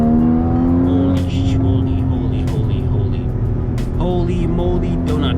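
Accelerating 2015 Porsche Cayman GTS in Sport Plus mode, its loud engine note rising steadily through the clip, with people talking and exclaiming over it.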